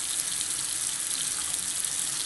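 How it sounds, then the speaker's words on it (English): Water runs from a bathroom sink tap as it warms up for a nighttime skincare routine, a steady, continuous hiss and splash that stays even and fairly close throughout. "I'm gonna turn the water on here so it gets a little bit warm"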